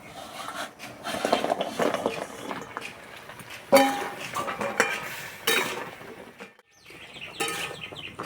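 Fried gaja sweets are stirred in a kadai of syrup, giving irregular scraping and clinking of a utensil against the pan in bursts, close and moderately loud, with no one talking.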